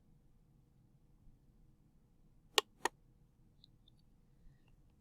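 On a computer, two sharp clicks come close together, quiet and isolated against faint background hiss, with a few tiny ticks afterward.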